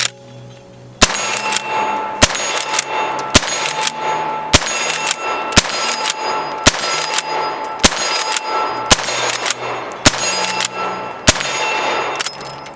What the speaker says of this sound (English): Let's see if I can get through a whole mag dump without short stroking.